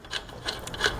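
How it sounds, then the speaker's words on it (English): Sleeve being threaded into the eye of a front lowered leaf spring on a 1947-59 Chevy or GMC truck, a close rhythmic rasping scrape repeating a few times in quick succession. "We'll go ahead and screw it right on in."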